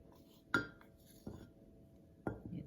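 A metal spoon scoops ingredients for a homemade body-whitening scrub, giving three faint, sharp clinks against a bowl, spaced apart with quiet gaps between.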